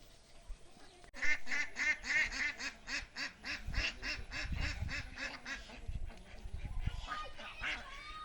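Ducks quack loudly and repeatedly in a rapid, overlapping chorus, close by, with some lower honking mixed in and faint background noise.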